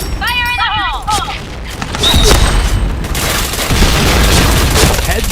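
A grenade explosion in a first-person shooter video game lands as a loud, deep boom amid ongoing gunfire, with a second heavy blast following and a voice speaking through the noise.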